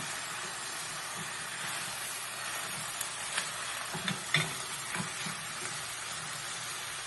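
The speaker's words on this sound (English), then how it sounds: "Give it a quick stir." Cauliflower and eggplant stir-fry sizzling steadily in a pan, a constant hiss with a few soft scrapes and clinks as the pieces are stirred; no one speaks.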